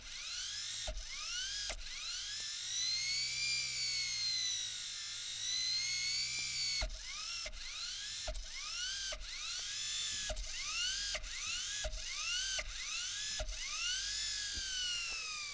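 A small appliance motor whirs with a rising and falling whine, stopping and restarting in a series of abrupt clicks as its direction is switched back and forth, heard close and alone.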